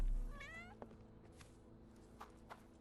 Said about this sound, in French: Un chat.